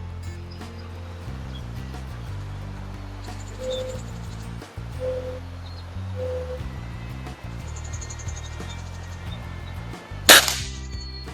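A single sharp, loud crack from a .177 caliber Beeman C1 carbine air rifle firing, arriving near the end over steady background music.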